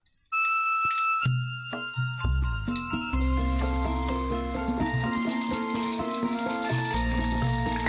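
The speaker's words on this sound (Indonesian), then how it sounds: "Bumbu kita gongso lur." Spice paste for a tofu and potato stew sizzling as it is stir-fried in a pan, a steady frying hiss under bright tinkling music with no talk.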